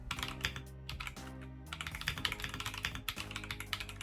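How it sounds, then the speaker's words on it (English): Rapid typing on an Akko 5075 mechanical keyboard with clicky switches, close and crisp, with a quick run of sharp key clicks, a brief pause, then another busy burst. "The Akko mechanical keyboard provides quite strong feedback. I can feel that key press and that clicky noise."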